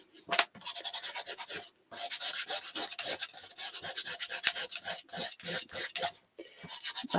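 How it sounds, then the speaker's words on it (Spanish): Sandpaper rasps across cardboard in short, repeated back-and-forth strokes with brief pauses between them, close and fairly quiet, with no voices. "Y vamos a desgastar el cartón."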